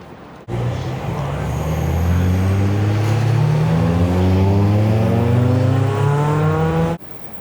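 A car revs up and passes, its engine note climbing steadily in pitch through rising harmonics over several seconds, loud and close, before the sound cuts off abruptly.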